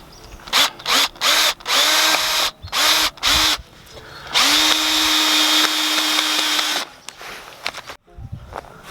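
A power drill drives screws into the timber frame of a raised garden bed on an allotment, first in six short whirring bursts, then in one long sustained run, close and loud, with no talk.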